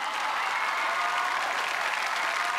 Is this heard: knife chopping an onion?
no